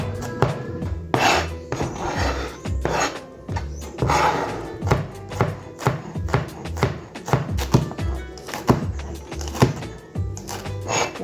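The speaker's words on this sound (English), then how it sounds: "So, chop everything else up first, and then we'll deal with the onions." Vegetables are chopped on a wooden board with a knife, producing repeated close, loud thunks and scraping strokes at an irregular, brisk rhythm, with no one speaking.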